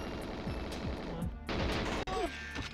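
Gunfire in GoldenEye 64 during the Bunker mission, quick repeated shots mixed with steady game music, fairly faint and short.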